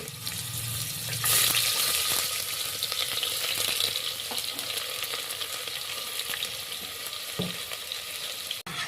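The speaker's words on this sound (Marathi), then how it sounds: "त्यामध्ये असं परतून घ्या, चांगली फोडणी होऊ द्या त्याला" Steady sizzling of chillies and onions frying in hot oil for chicken biryani, close and continuous, with a few soft stirring knocks.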